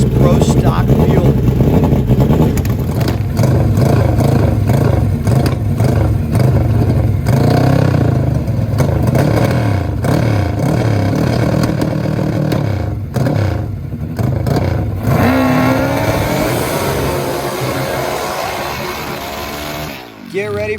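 An 800 horsepower turbocharged Hayabusa drag bike roars loud and sustained at a drag strip, its engine note dense and continuous, with crowd or announcer noise mixed in and a brief dip near the end.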